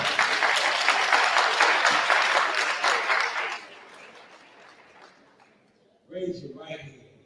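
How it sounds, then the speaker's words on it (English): A Kwanzaa audience applauds itself with loud, dense clapping for about three and a half seconds, tapering into a quiet tail before a voice starts speaking. "Give yourself another round of applause."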